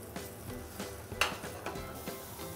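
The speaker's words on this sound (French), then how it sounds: "Et les pommes, on les fait bien rissoler comme ça." Apple pieces browning and sizzling in a frying pan while cooking rabbit with cider, a steady soft sizzle with occasional light clinks and stirring scrapes.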